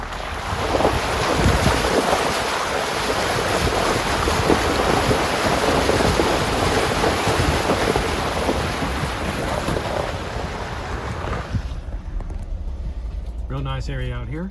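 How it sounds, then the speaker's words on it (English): Vehicle driving through a creek crossing on a rural road, a continuous loud rushing and splashing roar with heavy wind buffeting, ending abruptly as the vehicle clears the water, followed by a brief voice. "I'm just past the creek crossing on Spring Creek Road"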